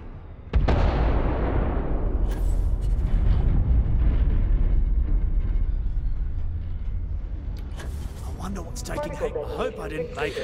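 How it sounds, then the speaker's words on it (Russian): A sudden explosion in the video game Starfield bursts in with a heavy boom, then a long rumbling roar fades slowly, and a voice talks briefly near the end. "Сейчас взрыв будет."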